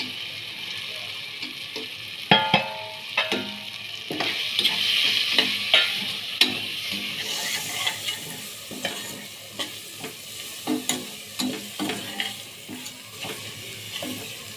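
Whole spices and garam masala fry with mashed onion in a pan for egg rice, a steady close sizzle broken by repeated sharp scrapes and clacks of a spoon stirring, with no talk.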